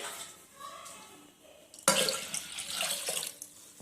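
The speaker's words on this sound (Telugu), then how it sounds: "కావాల్సిన వాటర్ వేసుకుందాం" After a quiet start, water suddenly gushes and splashes loudly into a pot, pouring steadily for a couple of seconds.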